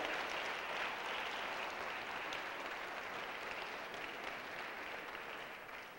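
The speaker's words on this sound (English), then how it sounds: "let's follow this up with a round of applause for the Campus Center staff as well." Steady, dense applause from an audience at a university State of the University address, honoring the Campus Center staff; broad and sustained for the whole stretch, easing slightly at the very end, with no talking.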